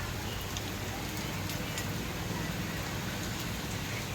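Heavy rain pours down in a steady, loud hiss with no letup, close and enveloping.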